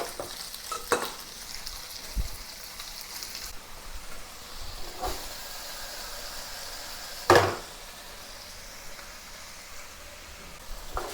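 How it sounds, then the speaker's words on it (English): Chicken pan-frying in a little oil in a single layer, a continuous close sizzle and hiss with occasional sharp clatters and scrapes as pieces are moved and turned. "Put it into single layer, pan fry one side until slightly brown and then the other side."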